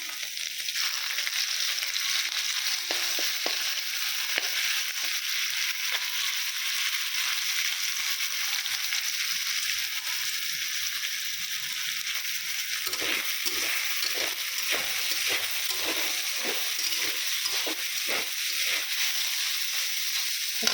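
Ginger and green chilli fry in a pan with a continuous, close crackling sizzle, joined in the second half by a run of quick spatula scrapes and taps.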